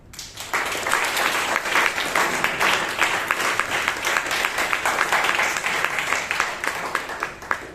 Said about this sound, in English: the committee members deserve a round of applause